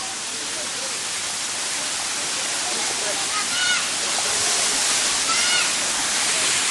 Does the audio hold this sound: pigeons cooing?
no